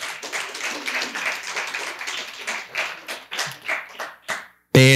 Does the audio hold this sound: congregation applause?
yes